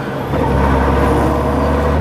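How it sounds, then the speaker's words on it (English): Honda GoldWing motorcycle running in gear on a winding mountain highway, with a continuous steady engine drone and transmission whine, loud and close with wind rumble, unbroken for two seconds. "You can hear a certain sound in the transmission or engine whine or whatever it is."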